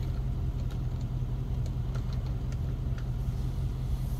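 A Ford car engine idles in a steady, low rumble close by, with a few faint clicks scattered over the even hum and no voices.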